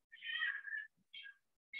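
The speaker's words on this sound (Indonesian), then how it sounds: "musim kucing kawin." Cats in mating season make three meows: a long, drawn-out cry, then a shorter one and the start of a third, fairly close and clear against silence.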